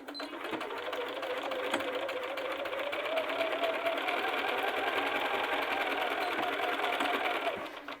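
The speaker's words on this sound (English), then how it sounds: "Now we're going to head over to the sewing machine and we're going to sew along the seam line on all 4 of these cuffs." Sewing machine stitching steadily along the seams of shirt sleeve cuffs, chain-feeding one piece after another, a continuous close whirring hum for several seconds.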